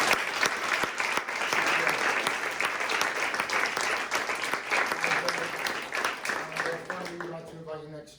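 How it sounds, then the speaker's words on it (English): An audience applauds steadily for a group of UX/UI mentees at a client project showcase, dense clapping sustained for several seconds before tapering off as a voice begins to speak at the end. "I'd like to just get one final round of applause for these guys"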